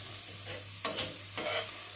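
Onions being stirred in a pan while cooking down into an onion compote: a steady soft sizzle with two brief scraping stirs close by, no voices.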